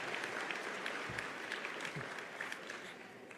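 A graduation audience applauds in a steady, moderately distant wash of clapping with a few sharper individual claps poking through.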